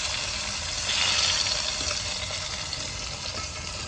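Tomatoes and onions hit hot oil with cumin, giving a steady broadband sizzle with a brief louder surge as they go in, then continuing frying and stirring close by.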